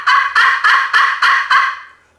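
Imitated call of an adult wild turkey for autumn hunting, six loud, evenly spaced yelps in a steady rhythm, close and clear with nothing else heard.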